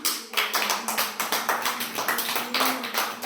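Children clap their hands in a steady rhythm in a classroom, a run of roughly a dozen sharp, evenly spaced claps close by with no talking over them.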